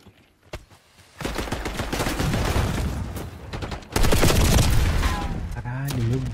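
Gunfire in Call of Duty: Black Ops 6, with a lone early shot followed by long, dense bursts of rapid automatic fire and booms, loud and close, and someone talking over the action.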